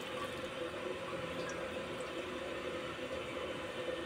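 Water pours steadily into a bowl of sago, a continuous close splashing rush with no break, filling the bowl for making papad at home.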